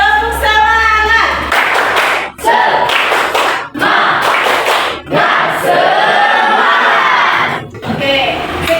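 A group claps the rhythmic Indonesian tepuk semangat spirit clap, sharp patterned hand claps in quick bursts, mixed with loud group voices chanting along. The sound is close and energetic, with brief pauses between sections.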